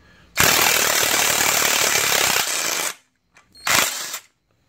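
A cordless impact wrench rated at 450 foot-pounds hammers on car engine parts: one long, loud, rattling burst, then after a short gap a briefer second burst, close up.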